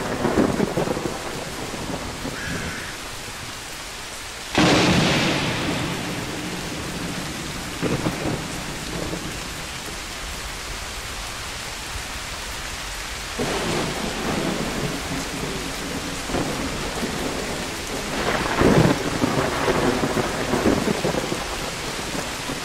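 Heavy rain pours steadily while several deep rolls of thunder rumble and crack, some close and loud, others fading into the downpour.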